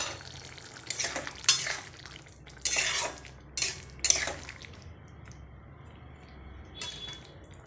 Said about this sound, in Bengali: এবার আলুর দমটা নেড়ে চেড়ে নামিয়ে নেব